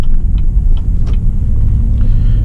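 Chevy Tahoe engine pulling away during a test drive, a steady, loud low rumble of the motor and road noise that holds throughout with little change.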